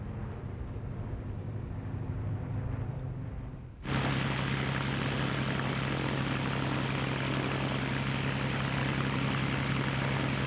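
A restored Spitfire fighter with JEJ markings drones steadily overhead, its engine roar jumping abruptly louder and brighter a few seconds in, then holding a sustained, close rumble with no voices.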